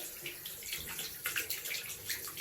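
Water runs steadily from a tap during handwashing, a soft continuous hiss and splash that stays fairly quiet throughout, with no voices.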